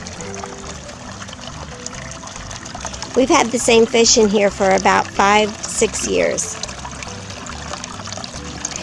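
A small fountain trickles steadily in a farm goldfish pond, a soft, continuous water patter that runs throughout, while someone talks over it for several seconds in the middle.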